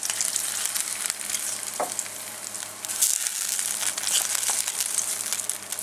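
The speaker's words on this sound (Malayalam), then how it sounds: "ഇത് ചിക്കനിലേക്ക് ഒഴിക്കാം." Hot tempering of browned fried onion and curry leaves poured into Malabar chicken curry, a continuous close sizzle and bubbling with faint crackles throughout.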